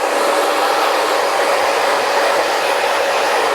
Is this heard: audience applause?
no